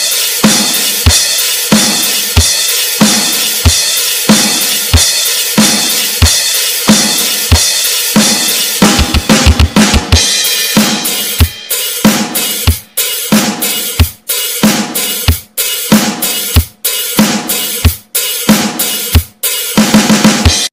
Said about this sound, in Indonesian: Sekarang mari kita gabungkan ketukan ke-5,